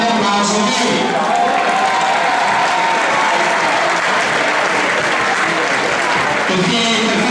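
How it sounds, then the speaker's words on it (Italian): Loud, dense applause from an audience of parents at a youth football academy team presentation for Treviso, continuous clapping close and full throughout. "un grande applauso a voi"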